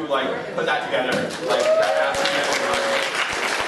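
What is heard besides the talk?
applause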